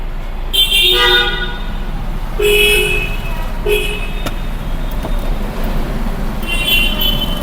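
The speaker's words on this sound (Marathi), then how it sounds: "काचं उघडलोय. आता आवाज का बाहेरचा आवाज?" City traffic horns honk in several bursts outside a Hyundai i20 diesel with its windows open, loud and fairly near, over a steady roadway rumble.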